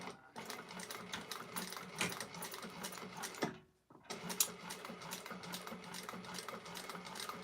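Sewing machine top stitching or basting along the card slots of a clutch wallet interior, a steady rapid mechanical chatter running close and continuous, broken by one brief pause midway before resuming.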